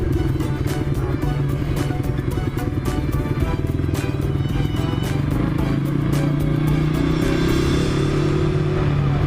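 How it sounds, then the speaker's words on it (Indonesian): A Suzuki Bandit motorcycle engine runs steadily up close, a dense rumbling drone with clattering and scraping road noise layered over it, loud and unbroken throughout. "gua pakai motor Suzuki Bandit nih"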